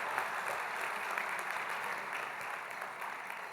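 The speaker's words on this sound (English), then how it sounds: "So another round of applause for them." A political leadership meeting audience claps in a sustained, dense wash of applause, steady and fairly distant, with no voices over it.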